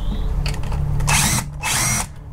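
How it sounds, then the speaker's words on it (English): A compact impact gun hammers at alternator bolts on a Mk4 VR6 engine in two loud, close bursts, each about half a second long, over a low engine-bay hum. "Get my little impact gun here. We'll get it out fast."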